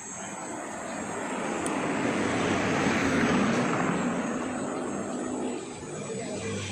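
A KTM Duke 390 motorcycle fitted with a Remus S-Flow exhaust roars on a road test, its broad engine rumble swelling loudly and then easing off as it passes.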